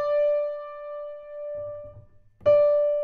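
A grand piano note played with the una corda soft pedal rings clear and sustained, then fades. A faint low thump follows before the same note is struck again firmly near the end.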